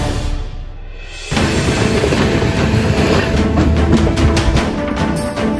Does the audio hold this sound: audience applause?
no